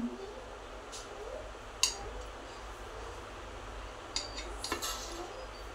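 A knife cuts through steamed khaman dhokla in a metal dish, giving a few sharp, close clinks and scrapes against the plate, spaced out over a quiet background.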